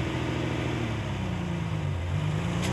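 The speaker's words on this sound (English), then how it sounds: "He just drove off in the GTE" A Ferrari 250 GTE with a rebuilt generator pulls away, its engine drone shifting pitch as it moves off, steady and fairly loud throughout with no one talking.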